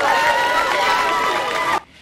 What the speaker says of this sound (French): sous les acclamations nourries des élèves, a fait son entrée à l'Institut Lumumba